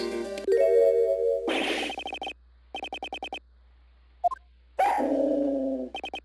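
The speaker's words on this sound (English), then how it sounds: "What is with the dog?" A dog barks in the Ace Attorney Investigations 2 video game, in short repeated bursts of stylized barking mixed with chiming game sound effects and blips.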